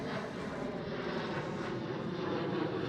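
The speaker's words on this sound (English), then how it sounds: "There's a German Airways E190 taking off." A German Airways Embraer E190 jet taking off at Amsterdam Schiphol, heard as a steady, broad engine roar at moderate distance, sustained without talk.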